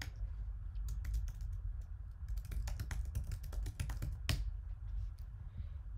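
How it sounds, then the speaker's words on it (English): Typing on a computer keyboard, a steady run of quick close key clicks over a low hum, entering a web address into a debug tool. "you just type in the URL"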